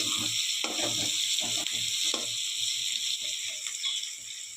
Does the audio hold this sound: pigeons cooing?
no